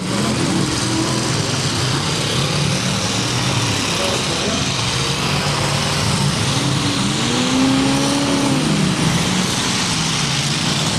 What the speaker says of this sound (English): And they're off, as you can tell by the roar of the engines.